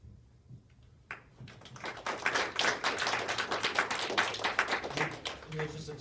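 Audience applause at a university student government executive candidate debate, a few scattered claps swelling into a sustained round of clapping that tapers near the end, with some talking mixed in.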